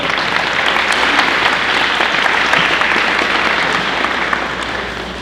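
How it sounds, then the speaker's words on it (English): An audience at a high school senior signing day claps steadily for parents and grandparents, a dense, even burst of applause lasting several seconds that tapers slightly at the end. "give your parents and grandparents a round of applause who are here today"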